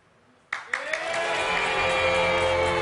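Applause swells in suddenly from near silence, a dense crackle of many hands clapping that builds and holds steady without pause.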